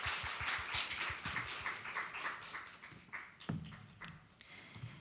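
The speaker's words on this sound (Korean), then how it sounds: "여러분 다시 한 번 더 큰 박수 부탁드립니다" Scattered applause from a conference audience at a forum on disability rights and independent living, a light patter of claps in the first seconds that thins out and fades, fairly faint and set back in the room.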